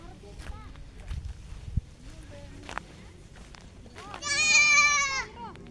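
A goat on a farm lets out one loud, wavering bleat near the end, preceded by footsteps and rustling and quieter talk from people nearby.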